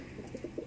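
A racing pigeon, resting after arriving home from a race in Tagudin, Ilocos Sur, gives soft, low coos in a short run of quick pulses that grow a little louder toward the end, close by in a quiet room.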